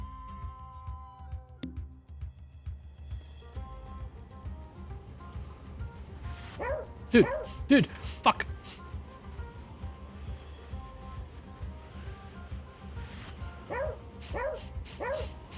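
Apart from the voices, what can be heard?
dog barking in a video game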